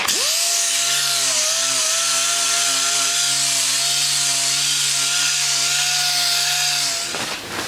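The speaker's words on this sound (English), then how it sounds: "I'm just going to break the edge with the sander just so I got a slight little bevel" A power sander rounds the edge of a wooden tabletop for an entry table, running as a loud, steady, close whine for several seconds before winding down, with no talking.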